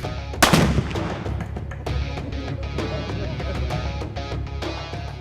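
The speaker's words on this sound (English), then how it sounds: "Tannerite brand binary exploding rifle targets" A Tannerite binary exploding rifle target is shot, giving one sharp loud blast near the start that rolls off quickly, followed by a series of fainter cracks and clicks over steady outdoor background noise.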